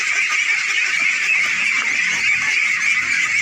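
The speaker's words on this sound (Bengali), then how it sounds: "গাজীপুর জেলার পিরুজলি ইউনিয়নের মধ্যে এটি একটি নতুন হাঁসের খামার" Ducks at a new duck farm on a village pond in Pirujali union, Gazipur, Bangladesh, month-old birds quacking and honking in a dense continuous flock chorus.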